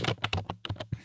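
Keys tapped on a computer keyboard, picked up through a close microphone in a home recording setup, sound as a quick run of about eight or nine separate clicks in an uneven rhythm, near and fairly quiet, with no talking.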